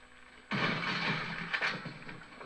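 A gunshot-like blast in Resident Evil 4 from a handgun, one sudden loud burst that rings on and fades over about two seconds, with no speech.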